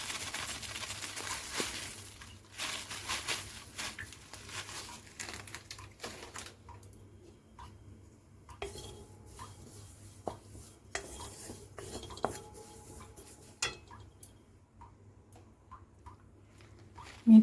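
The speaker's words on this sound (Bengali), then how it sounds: "এর মধ্যে কসুরি মেথি ড্রাই রোস্ট করে নেব।" Dried kasuri methi (fenugreek leaves) dry roasting in a hot, oil-free wok gives off quiet, intermittent scrapes and light rustling clicks as a spatula stirs the leaves across the metal.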